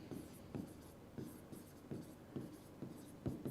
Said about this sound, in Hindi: इधर लिखता हूं मैं